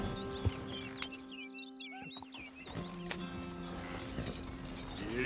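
Horse hooves walking at an even pace in Red Dead Redemption II, soft clopping steps under a steady game ambience with bird-like chirps scattered through.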